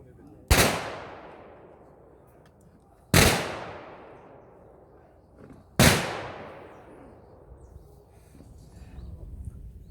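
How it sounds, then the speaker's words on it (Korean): A ceremonial rifle volley at a presidential memorial service in Seoul: three loud, sharp cracks spaced a few seconds apart, each echoing and fading outdoors. "조총은 3회 발사됩니다."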